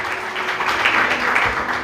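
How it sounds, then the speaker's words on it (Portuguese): A church congregation breaks into a short burst of clapping during a sermon service, a full, even patter of many hands lasting just under two seconds. "Vamos aplaudir o nome de Jesus"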